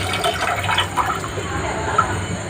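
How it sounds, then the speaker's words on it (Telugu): Water splashes and trickles steadily from a coconut for a couple of seconds, a close, wet pouring sound with faint voices in the background. "చూడండి వాటర్ ఎలా తీస్తున్నాడు"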